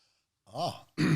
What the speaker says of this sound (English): I know you've got a little bit of a tickle in the back of the throat and a cough